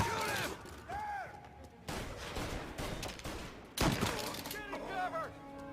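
Gunfire in the Mafia Remake video game, bursts of shots and impacts mixed with shouting voices and cutscene sound effects, fairly dense and chaotic.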